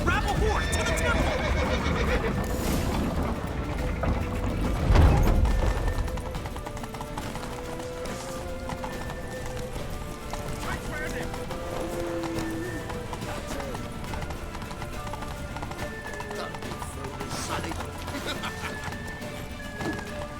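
Horse hooves clip-clopping at a gallop with a loud whinny near the start, from The Witcher 3: Wild Hunt, heard under shouted voices, game music and scattered crashes.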